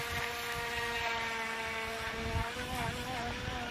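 A Horizon Hobby Proboat RC boat runs on a lake at Haas Lake Park, its small motor giving a steady high whine with wind noise, continuous and moderately distant.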